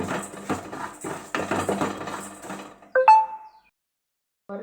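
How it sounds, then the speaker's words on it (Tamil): Moong dal dry-roasting in a pan at home, with a utensil stirring it in a run of rhythmic clattering knocks, then a sharp metallic clink, then silence and a brief final scrape. "பாசிப்பருப்பை இந்த மாதிரி பொன்னிறமாக வறுத்து எடுத்துக்கிடுவோம்"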